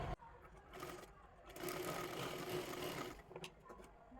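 A sewing machine stitching a strip of fabric onto a blouse whirs in short bursts, then one longer steady run of rapid needle clatter, close and fairly quiet, with brief pauses between.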